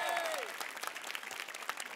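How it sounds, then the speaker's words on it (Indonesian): Light, scattered audience clapping at an Indonesian stand-up comedy show, faint and a little distant, with a voice briefly heard at the start. "Tepuk tangan dong."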